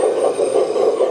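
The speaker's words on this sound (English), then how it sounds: "here's the engine sound" A synthetic engine sound effect from a HUINA Kabolite 1/14 hydraulic RC excavator hums in a steady, pulsing loop, a buzzy mid-pitched drone with a regular throbbing rhythm, close and constant.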